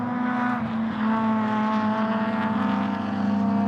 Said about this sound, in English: former saloon car by the sound and look of it, a VN Commodore